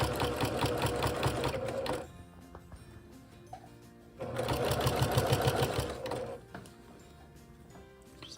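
A sewing machine runs in two sustained bursts of steady mechanical whirring as it stitches bulky quilt layers in a straight line, with a quieter pause between bursts filled by faint handling sounds.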